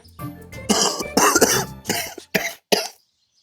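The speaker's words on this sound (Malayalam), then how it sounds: "കണ്ട ചുമക്കുന്ന കണ്ട?" A person coughing several times in close succession, harsh and near, with short pauses between bursts and a rough throat-clearing quality.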